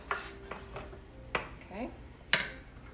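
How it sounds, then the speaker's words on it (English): Spoon stirring rice in a pot in a home kitchen, a few scattered scraping knocks and clinks of utensil against cookware, close and fairly quiet, with brief speech between the sounds. "Let's give our rice one more stir really quick."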